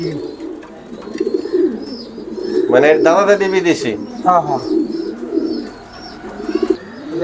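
Foreign racer pigeons coo in a low, steady murmur, with someone speaking over them through much of the clip.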